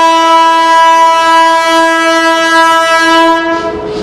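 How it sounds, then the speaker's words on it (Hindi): A local passenger train on the Korba–Raipur route sounds its horn as it departs Janjgir Naila railway station: one loud, sustained, steady blast lasting over three seconds, very close, before it cuts off. "हमारी ट्रेन का डिपार्चर का हॉन्किंग हो जाता है"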